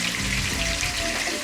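Smoked jowl bacon frying in a pan, heard as a steady, close, bright crackling sizzle with no voices.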